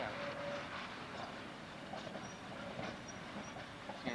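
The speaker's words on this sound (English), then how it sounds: "That's the whole train." Railroad cars of a train rolling past on the track in the desert Southwest, a steady rumbling roar with faint rhythmic wheel clatter and brief high squeals, continuous and fairly close.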